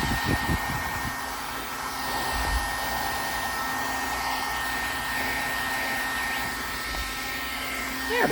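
Heat embossing tool blowing hot air on the back of a curled cardstock card to flatten it, a steady loud whirring hiss running throughout with no talk.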